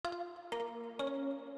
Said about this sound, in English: I brought in a second layer, which is more of like a pluck